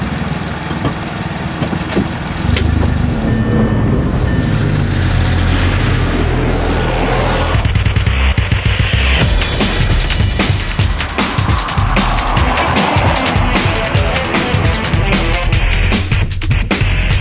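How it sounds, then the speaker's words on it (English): A methane-powered car drives on a test track with mixed pavement, turns and high-speed sections, its engine a loud, steady drone heard from inside the cabin with rumbling road noise and shifting tones as it goes. "This is a methane-based car."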